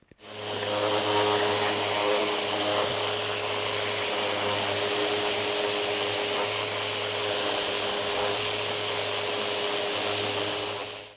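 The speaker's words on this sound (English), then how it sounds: "we've now finished all of our sanding" A power sander working the wooden parts of a DIY wine caddy, a steady loud whine and hum running unbroken from start to finish.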